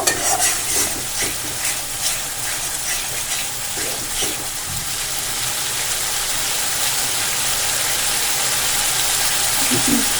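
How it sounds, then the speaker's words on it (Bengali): Spices stir-fried on medium flame for a paneer and pea curry, a steady close sizzle with repeated scraping strokes of a spatula throughout. "2 থেকে 3 মিনিট এইভাবে একটু মিডিয়াম ফ্লেমে রেখে আমি মশলা নাড়াচাড়া করে নেব।"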